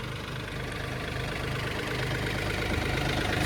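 Mahindra Oja and Kubota 2420 tractors running in first low gear, a steady throbbing diesel drone with a low, even knock that swells slightly louder toward the end, with no talking.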